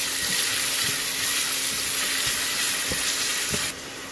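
Chopped onion fries in a pan for a fish curry, a steady close sizzle and crackle with faint soft taps throughout. No one speaks.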